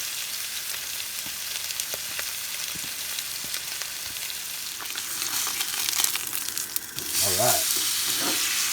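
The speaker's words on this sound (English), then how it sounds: "Got a nice sear on that." Meat sears in a hot pan at a rainy van campsite, with a steady close sizzle that swells louder near the end, and someone speaks briefly.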